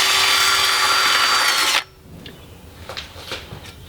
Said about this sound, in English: a simple 1/4 inch bit on a drill